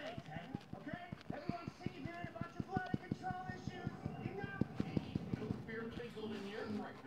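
A TV playing faintly in the background, with rhythmic clip-clop hoofbeats and muffled voices coming through at low level.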